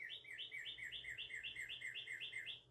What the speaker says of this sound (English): That's a cardinal.